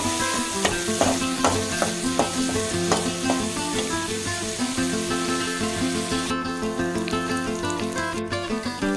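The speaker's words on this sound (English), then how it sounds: "Now stir fry it till the onions are nice and opaque." Onions and green chilli are stir-fried in a pan while cooking drumstick flower poriyal, giving a steady close sizzle with scraping stirs and clicks, all beneath continuous background music with no speech.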